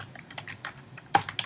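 Typing on a computer keyboard while writing Python pseudocode: a quick, irregular run of close, light key clicks with one louder keystroke near the end, no voices.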